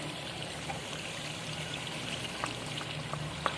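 Yogurt poured into mutton karahi sizzling in the pan, a steady broad frying hiss with small crackles and pops, close and fairly quiet, with no voices.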